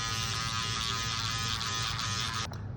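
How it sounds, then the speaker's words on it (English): An electric hair clipper cutting hair during a barbering haircut gives off a steady, close buzzing hum that runs continuously with slight fluctuations and drops briefly at the very end. "I'm going to work the clipper around based off of his head shape"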